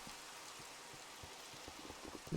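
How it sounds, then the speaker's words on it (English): Steady soft rain patters in Minecraft, a faint continuous hiss with scattered drop sounds and no talking. "I'm getting real tired of the weather changing back to rain all this time."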